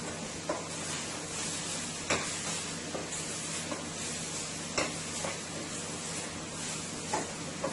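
Salt fish frying in a pan for Caribbean dhal and rice, a steady close sizzle with occasional scraping stirs and clacks of a utensil against the pan.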